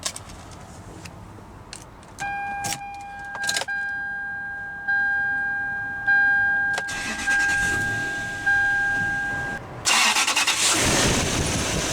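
A 2003 Toyota Sequoia Limited 4WD with a 4.7-liter iForce V8 cranks with a steady repeating whine and catches, its engine surging to a loud, broad roar at the end, with no voices present.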